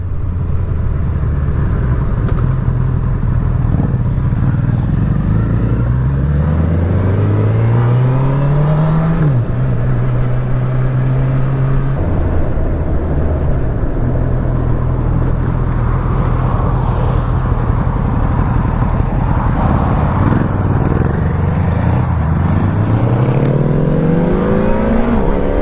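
A motorcycle engine revs up through rising gears, pitch climbing then dropping at each shift, loud and close with steady wind rumble.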